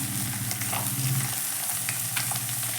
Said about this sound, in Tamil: வெங்காயம் வதங்கிருச்சு இப்போ பூண்டு போட்டுக்கலாம் இஞ்சி போட்டுக்கலாம்